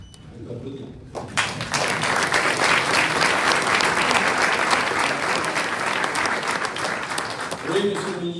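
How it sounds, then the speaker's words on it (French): An audience at an Aulnay-sous-Bois ceremony bursts into loud, sustained applause after a brief quiet opening. The dense clapping holds steady for several seconds, then tapers slightly with voices faintly beneath. "On peut applaudir."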